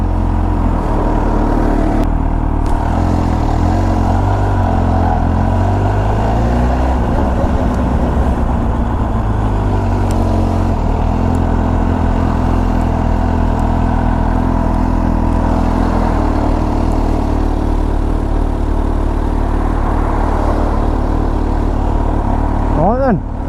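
Kawasaki H2 SX supercharged motorcycle on a test ride, its engine droning loud and steady throughout with shifting revs and rumbling wind-buffeted road noise, while a rider talks over it at times.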